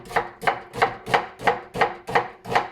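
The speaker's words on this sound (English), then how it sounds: "so just go ahead and slice up that onion" A knife slices through a fairly large onion on a cutting board in eight evenly spaced, crisp close chops, steady and rhythmic, with no voices.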